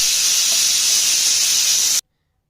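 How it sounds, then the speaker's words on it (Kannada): Steam hissing loudly and steadily from a pressure cooker on a medium flame while rice and fenugreek-leaf pilaf cook inside, a continuous bright rush that cuts off abruptly after two seconds. "ಈಗ ಕುಕ್ಕರ್ ಲಿಡ್ನ ಕ್ಲೋಸ್ ಮಾಡಿ ಮೀಡಿಯಮ್ ಫ್ಲೇಮಲ್ಲಿ ಒಂದೆರಡು ವಿಷಲ್ ತೆಗೆದ್ರಿ"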